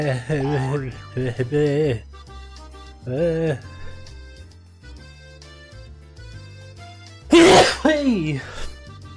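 One sharp, explosive sneeze bursts out near the end, preceded by voiced vocal sounds over a soft musical background.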